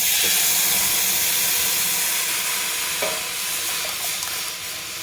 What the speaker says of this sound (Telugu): ఇప్పుడు ఉడికించిన పెసరపప్పు నీళ్ళని మెల్లిగా ఇందులో జారు